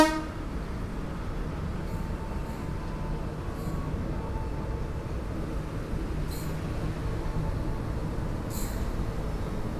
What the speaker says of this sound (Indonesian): Ternyata di sini silangan sama kereta bandara